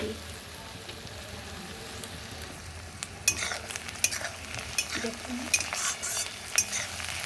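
Onions fry in a pan with a soft, continuous sizzle, joined midway by sharper scraping and stirring strokes of a spatula, close and moderately loud.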